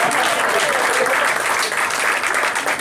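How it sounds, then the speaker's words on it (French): Theatre audience at a stage comedy breaking into applause, a thick, continuous burst of clapping that holds steady and eases off slightly near the end. "Applaudissements."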